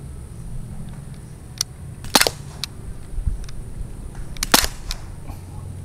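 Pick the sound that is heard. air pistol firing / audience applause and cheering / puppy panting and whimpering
air pistol firing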